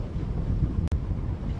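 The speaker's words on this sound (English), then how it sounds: "But now very strong gusts where we are." Strong wind gusts buffet the microphone at an Australian Championship sailing race, producing a loud, continuous low roar with one very brief dropout midway.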